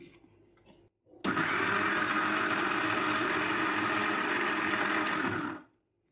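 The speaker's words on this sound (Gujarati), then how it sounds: "ને ફરી મિક્સર ગ્રાઇન્ડ કરી દઈશું।" A mixer grinder runs again after a bowl of water is added to chopped juice vegetables and coriander. The motor whirs loudly and steadily for about four seconds before winding down, with a faint hum and handling noise just before it starts.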